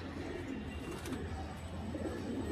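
A pair of Chiniya Homer pigeons coos softly and continuously, low murmuring calls layered over a steady background hum, fairly quiet and close.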